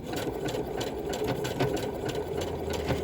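A sewing machine stitches fabric pieces together for an openwork seam, running with a quiet, steady, rapid mechanical whir and light rattle throughout.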